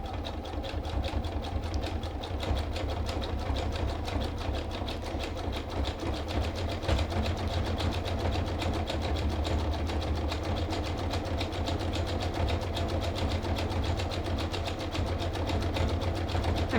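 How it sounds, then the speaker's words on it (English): A sewing machine zigzag stitching rope together to build a coiled rope basket, its needle hammering in a steady fast rhythm, close and continuous with no talking. "I'm still zigging on one piece of rope, zagging on another, lining up where the ropes come together right there in that center notch on my presser foot"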